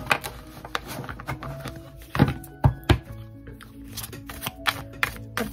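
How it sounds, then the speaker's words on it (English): Tarot cards riffled and tapped in quick bursts, soft slaps and thunks at close range with brief pauses between shuffles, no voices. "We're just gonna do a quick shuffle."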